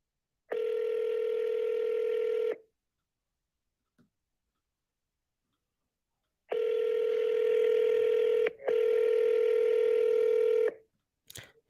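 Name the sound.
telephone dialing and ringing on an outgoing call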